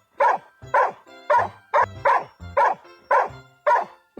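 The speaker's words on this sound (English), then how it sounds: "Dog. Dog." Sharp, close barks from a dog repeat at a steady pace, about eight in a row, loud and clear with nothing else heard.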